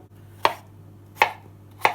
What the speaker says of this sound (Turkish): Soyup yıkadığımız patatesleri küp küp doğramamız gerekiyor.